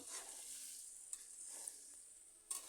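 Potatoes fry in a pan with a faint, steady sizzle and a few soft stirring knocks, quiet and close with no voices.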